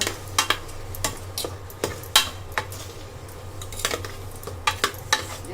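Mutton masala for Malvani mutton being sautéed in a pan, a spoon scraping and clinking against the metal in an irregular rhythm over a low, steady sizzle, close up.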